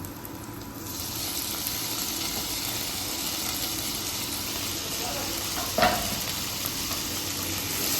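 Chopped tomato being stirred in a frying pan while making red sauce pasta, a steady sizzle with soft scraping under it throughout and one brief louder clack of the spoon near the end.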